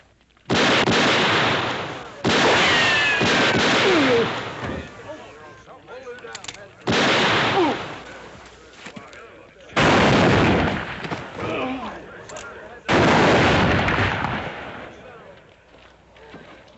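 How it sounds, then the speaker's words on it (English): Rapid, heavy gunfire in a western shootout comes in several long, loud, overlapping bursts of repeated shots separated by brief pauses. "That's enough shooting."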